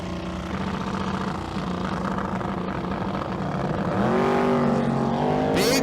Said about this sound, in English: Big wheel stand for the Mustang in the right lane